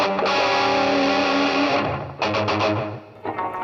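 Distorted electric guitar lead through a Boss Katana MK2 amp, sustained notes drenched in a huge echo, loud and alone, with a stuttering burst of repeated picked notes near the end.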